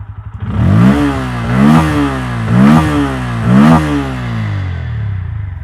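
A Bajaj Pulsar N160 motorcycle engine revs repeatedly to around 5000 RPM, four rising blips in a steady rhythm over a loud, close exhaust growl.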